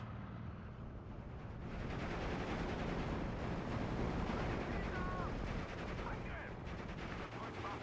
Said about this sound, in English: It's just an engagement of MGs at the moment.